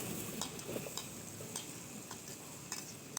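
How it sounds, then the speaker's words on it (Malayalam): Okra and tomato sautéing in a pan for sambar, giving a soft, continuous sizzle with faint ticking and scraping from stirring, fairly quiet and with no voices. "നമ്മളെ വെണ്ടയ്ക്കയും തക്കാളി ഇതിൽ നന്നായിട്ട് വഴറ്റുന്നുണ്ട്."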